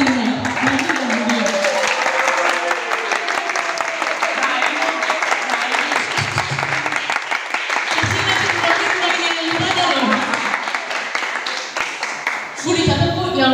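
A school audience claps loudly and continuously, dense applause filling the room with a few brief voices and cheers rising through it before it fades near the end.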